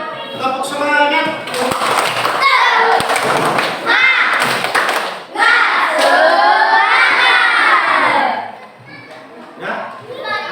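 Fifth-grade schoolchildren in a classroom do a loud rhythmic spirit clap, with bursts of claps and thumps mixed with their shouting voices across the whole stretch.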